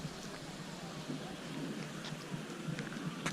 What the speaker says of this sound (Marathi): जोरदार पाऊस झाला